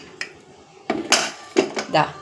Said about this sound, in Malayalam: നമുക്ക് കുക്കർ ഒന്ന് തുറന്ന് നോക്കാം